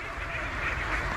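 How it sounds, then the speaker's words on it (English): A huge flock of ducks crossing a road quacks in a dense, steady chorus of overlapping calls, nearby and constant for a brief moment, with no single bird standing out. "There's like over a million ducks, man."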